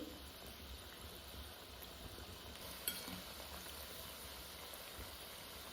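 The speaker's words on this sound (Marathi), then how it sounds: "आपल्याला लाल खरपूस होईपर्यंत भाज तळून घ्यायचे तेलामध्ये" Spinach bhaji fritters frying in oil on a wood-fired chulha make a faint, steady low sizzle and bubbling, with a single brief clink near the middle and no talking.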